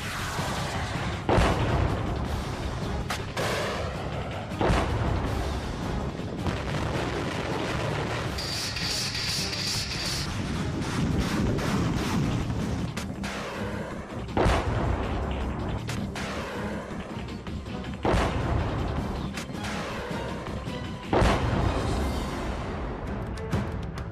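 Heavy gunfire and artillery in the Russia-Ukraine war, a dense, continuous barrage of booms and cracks, with repeated louder blasts standing out over a rumbling background and no voices.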